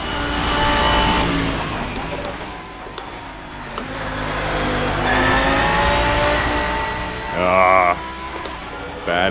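A Porsche race car in the Assetto Corsa racing game starts a new lap, its engine revving loud and close, climbing and dropping through gear changes, with a sharp rising whine near the end.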